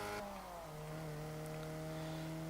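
Engine of a 1972 Volvo 1800E in the racing game Forza Horizon 3, a steady close-up drone with a brief dip in pitch early on, then a sustained even note that holds throughout with no talk.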